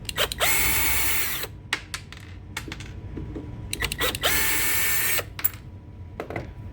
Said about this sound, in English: you can make it easy on yourself by using power tools